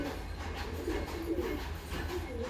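A pigeon gives soft, low coos while held in the hand during wing trimming, a faint murmur under steady low hum and handling rustle.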